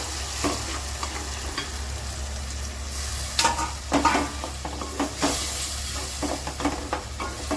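Mashed eggplant bharta is stirred through hot frying oil, making a steady sizzle broken by repeated close scraping and stirring strokes, fairly loud and without speech.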